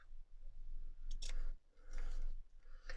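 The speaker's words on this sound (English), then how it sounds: "So I'm going to cut a piece of that off." Scissors snip through a piece of craft fabric at a table, several short crisp cuts at close range in quick, uneven bursts.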